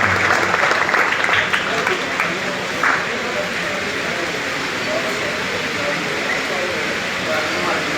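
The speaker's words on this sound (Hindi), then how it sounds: "जोरदार ताड़ी दे नाल" A crowd at a party gathering in Jhelum gives loud, sustained applause to welcome a performer. The dense clapping is strongest at first and then continues at a steady level.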